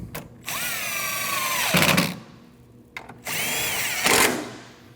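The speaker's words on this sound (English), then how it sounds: "Now install your 10mm bolts and tighten them down." Power tool, likely an impact driver, driving and tightening 10mm bolts on a 2013-2019 Ford Escape 1.5L, with two loud close bursts of whirring, each ending in a brief rattling hammer, separated by a short pause.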